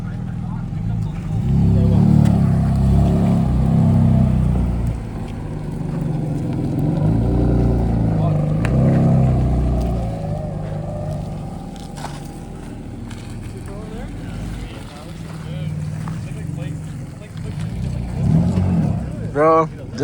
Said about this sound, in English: Nothing looks better than the F82 rolling, bro.